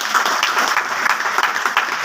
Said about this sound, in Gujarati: મારા પથદર્શક જીજે ઝાલા સર માટે જોરદાર તાળી થઈ જાય